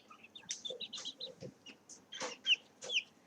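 Young chicks in a brooder give short, high, scattered peeps and chirps, a few sharp calls standing out near the end over a soft background.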